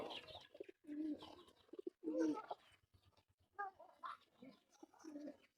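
Pigeons coo softly in repeated low, throaty phrases, with a few brief chirps, fairly close and otherwise quiet.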